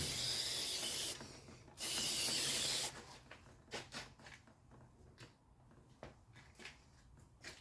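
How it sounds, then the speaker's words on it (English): Brake cleaner sprays onto Mercedes-Benz AMG brakes in two loud, sustained hissing bursts of about a second each, close by. Quieter scraping and handling noises follow. "Clean with brake clean."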